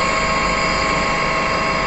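Steady mechanical hum of a metal lathe spinning at 200 RPM in a machining workshop, a loud continuous drone with a constant pitch and no talk.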